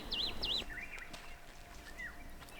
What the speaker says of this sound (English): With the exception of a few birds, it's silent around us.